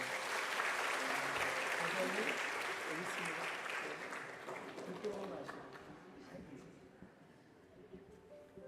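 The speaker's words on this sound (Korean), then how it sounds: "한 번 더 격려의 박수 보내주시죠" A church congregation gives a round of encouraging applause for a speaker at a Sunday afternoon service, a dense burst of clapping that gradually thins and fades away over several seconds, heard at low level in the hall.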